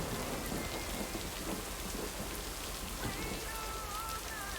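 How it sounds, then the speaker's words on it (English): Steady rain patters continuously in a video game lake setting, with soft rumbles of thunder rolling underneath, evenly loud and close throughout. "listen to the rain sounds and everything. It's so soothing."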